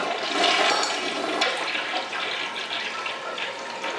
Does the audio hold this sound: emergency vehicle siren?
no